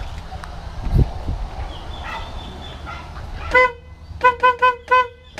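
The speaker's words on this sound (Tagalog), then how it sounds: "Ayan, bumusina." A multicab's horn gives a short toot, then a quick series of four rapid honks, close by, over faint background noise.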